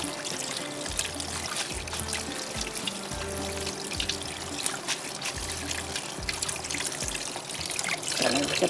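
Water drains from boiled macaroni in a colander, a continuous trickling and dribbling pour that runs steadily throughout, close and moderately loud, with a low intermittent hum underneath.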